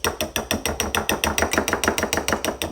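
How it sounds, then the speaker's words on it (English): A fork whisks an egg with fresh lemon juice in a bowl, giving a fast, steady run of sharp clinks and taps, close up and continuous, with no voices. "I'm going to take a fork and we're just going to whisk that together"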